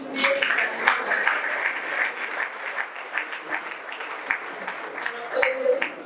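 A church congregation claps in a lively burst of many hands, with sharp individual claps standing out and voices calling out over the applause throughout.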